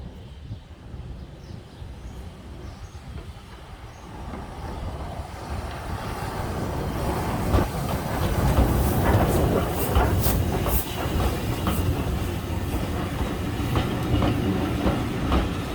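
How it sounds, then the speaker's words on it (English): A train rumbles past nearby in North Yorkshire, near a train yard, growing louder midway with rhythmic clickety-clack of wheels on rails and metallic rattling, steady until the end. "I managed to get a little bit of footage of the train."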